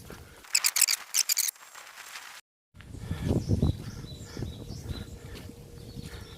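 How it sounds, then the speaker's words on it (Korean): Faint bird calls come from a quiet, foggy mountain trail on Surisan, with bright chirps early on, a brief silence, then softer distant twittering over low rustling. "새소리가 들리고 있습니다"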